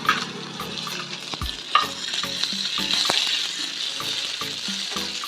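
Onions, garlic and spices sizzle and crackle steadily in hot oil, with scattered sharp pops and light stirring clatter throughout, no voices.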